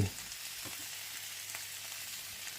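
Vegetables and liver stir-fried in a pan give a steady, close sizzle that holds evenly throughout, with a few faint scrapes of stirring and no voices.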